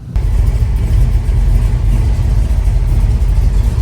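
A 1970 Dodge Challenger's engine catches and settles into a loud, steady low rumble with rising revs, close up and heard alone without talk.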